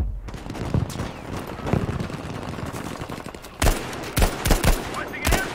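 Gunfire in Battlefield V on Iwo Jima, scattered shots at first and then a cluster of sharp, loud, nearby reports near the end, over a busy battlefield background.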